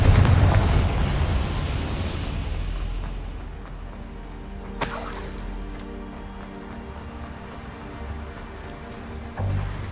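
Confringo blasting spell from Hogwarts Legacy erupting in a loud opening burst that decays into a rumbling tail, with a second sharp crack and clinking debris midway and another thud near the end.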